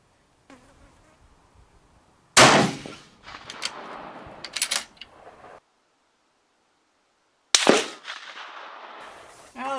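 Two sharp, loud M1A match rifle shots crack at an outdoor range several seconds apart, each trailed by rumbling echo and buzzing noise, with quiet stretches between them.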